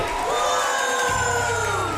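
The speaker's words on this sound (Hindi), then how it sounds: "चलो सब तालियों से उनकी विदाई करो।" A large crowd at a twins competition cheers and whoops in a loud continuous roar, with shouting voices and a tonal synth sweep running underneath.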